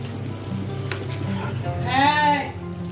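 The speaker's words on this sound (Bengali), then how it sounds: "আমি এখানে মাছের ঝোলের জন্য আলুগুলোকে আগে ভেজে নিচ্ছি" Potatoes frying in oil for a fish curry, a steady close sizzle with a brief louder burst partway through as they hit the hot pan or are moved.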